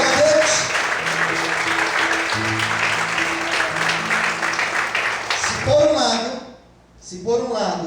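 Church congregation applauding during a Portuguese-language sermon, a dense steady wash of clapping for several seconds with music underneath, then fading as the pastor's voice returns.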